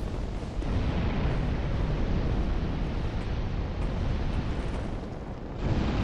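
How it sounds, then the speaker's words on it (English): Exploding barrels in the video game Dark Souls II: a sustained, loud, rumbling blast roar with a dense low-heavy wash that keeps going for several seconds, then swells again at the end, with no talk over it. "it's been a long time since we had to deal with any exploding barrels"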